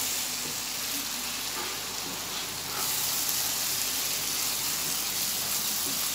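Masala spice paste frying in oil for a mixed vegetable sabzi gives a steady, close, fairly loud sizzle and crackle that runs unbroken throughout, with no voices.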